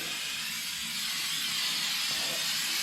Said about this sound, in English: I'm just going to spray it all around the different areas